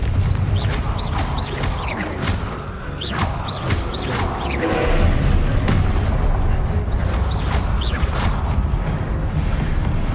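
Confringo fire spell blasts in Hogwarts Legacy, a loud, busy stretch of booming impacts and crackling crashes with a heavy low rumble throughout and sharp hits recurring over ten seconds.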